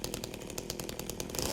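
A chainsaw in the Silent Hill 2 Remake video game roars steadily as it saws through an enemy, a dense buzzing motor drone that grows louder toward the end.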